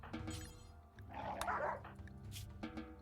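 A wolf attacking in RimWorld, yelping and barking in short bursts, faint and low in level, with a brief noisy scuffle in the middle.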